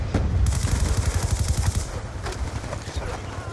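Automatic sentry gun firing in the Black Ops 2 video game, a dense rapid burst of gunfire that stays loud for about two seconds, then thins into scattered shots, with players talking over it.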